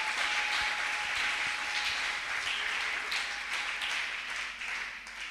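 A church congregation applauds steadily, a dense wash of many hands clapping at moderate distance that slowly thins toward the end, with a faint voice underneath.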